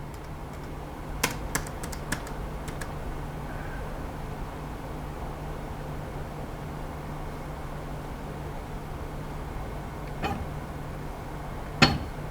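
Someone types on a keyboard machine producing Chinese characters, with soft steady key clicks under a constant hiss and a few sharper, louder taps scattered through.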